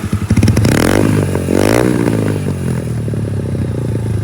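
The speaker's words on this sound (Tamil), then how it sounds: "இப்போ என்னோடய எக்ஸாஸ்ட் நாய்ஸ் பார்க்குறீங்களா?" Loud, close TVS Apache motorcycle with a tuned exhaust idling with a throaty rumble, briefly revving up then settling back, no talking.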